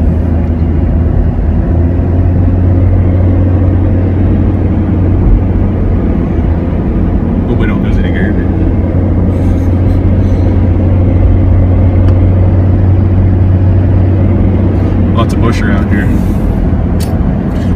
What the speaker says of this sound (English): So we're just driving the country roads, the rural roads here.